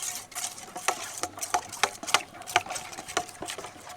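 Spices for a Bengali-style vegetable biryani are stirred into yogurt in a bowl, producing soft rhythmic scraping and light clinks of a spoon, close and fairly quiet, with no talking.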